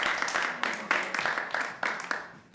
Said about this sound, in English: Oh my gosh, big round of applause.